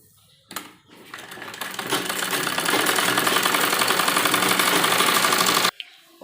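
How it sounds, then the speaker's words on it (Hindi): A sewing machine stitches a double seam along the curved edge of a circular umbrella palazzo. After a couple of brief starts it runs in one fast, continuous, close-up rattling burst for about five seconds, then stops. "इसी तरह गोलाई करते हुए डबल सिलाई हम इसके ऊपर लगाएंगे"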